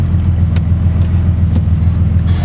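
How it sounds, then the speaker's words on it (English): A rear-engine Porsche driving, heard from inside the cabin as a loud, steady low engine drone with road rumble and a few faint rattles over the top. "Rear engine, the car's loud, but not too loud to where we can't just enjoy riding in the car"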